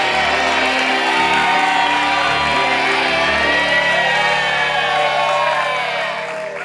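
A television game-show studio audience cheers, whoops and shouts continuously at full volume in a loud, dense crowd roar that tapers slightly at the end.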